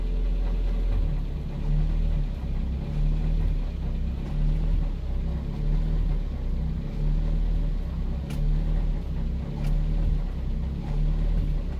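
The engine of a 1974 Honda Civic Mk1 strains in first gear with the clutch dumped, giving a steady low rumbling drone that stays close and loud without talk.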